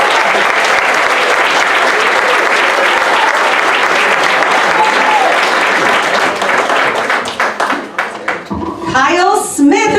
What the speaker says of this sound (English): So please give a round of applause to Logan Malinowski.